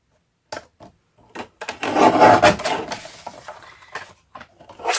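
Scraping and rasping strokes of cutting strips for a craft journal come in irregular bursts, louder in the middle, with brief pauses between cuts; close by and no speech.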